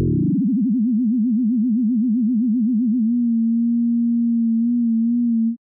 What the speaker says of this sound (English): I'm going to take the carrier and bring its frequency so far down that it becomes an LFO rather than an oscillator or sound